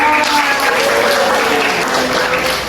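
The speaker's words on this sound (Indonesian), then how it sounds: "Tepuk tangan." Children in a sixth-grade primary school classroom applaud after a poem reading, a loud, dense burst of many hands clapping together close by, sustained evenly throughout.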